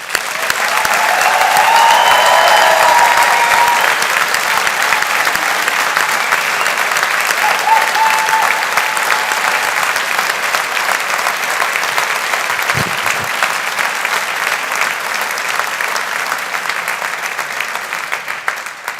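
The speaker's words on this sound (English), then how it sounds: "let's give the class of 2023 a round of applause" An audience applauds a graduating engineering and humanities class at a university ceremony: sustained, dense clapping from a large crowd that holds steady at full volume for the whole stretch, with a brief muffled thump partway through.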